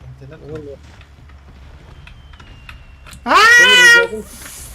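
A cat gives one loud, drawn-out meow up close near the end, after quiet keyboard tapping and a brief soft voice earlier.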